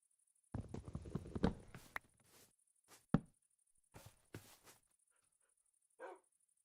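Dogs in the video game Minecraft give a scattered series of short, faint barks and yips, separated by quiet gaps, with a thin steady tone running behind them.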